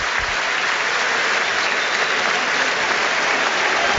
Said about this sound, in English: they are holding a moment's applause in memory of a prominent Crystal Palace fan